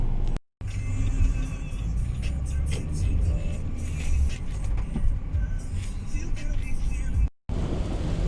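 A car driving on the way to a gas station gives a steady, close engine and road rumble throughout, briefly cut out twice, with no talking.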